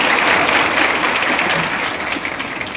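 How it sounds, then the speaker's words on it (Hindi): Loud, sustained applause from an audience at a ceremony welcoming guests on stage during a Mission Shakti women's safety event, an even crowd clapping that fades slightly toward the end, with no voices. "एक जोरदार तालियों के साथ सबका स्वागत कर रहे हैं"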